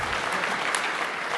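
Conference audience at the DEF CON 22 closing ceremony clapping, a dense, even roar of many hands filling a large hall for the whole short moment.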